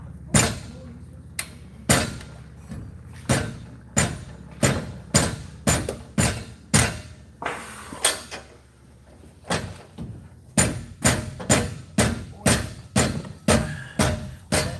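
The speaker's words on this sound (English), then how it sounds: "Then give it a couple whacks." Repeated heavy hammer blows strike an engine part during a 426 Hemi install, about two sharp metallic whacks per second, loud and close, with a brief pause midway before the steady pounding resumes.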